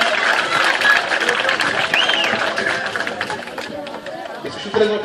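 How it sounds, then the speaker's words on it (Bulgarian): Crowd applause and cheering for a participant at a basketball dunk contest in Rakovski, Plovdiv, a dense, continuous clatter of clapping with a loud announcer voice talking over it. "Аплодисменти за Милен."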